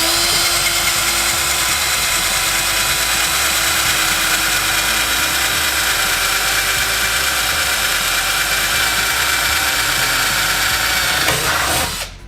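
Power drill with a dull bit boring into fiberglass while building a high power rocket, a loud continuous whine held steady for about eleven seconds before winding down, alone without talk.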